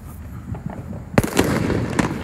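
Fireworks go off over a bridge in Florida, loud crackling bursts and pops erupting suddenly after a quiet moment of distant background noise, then continuing in a dense cluster.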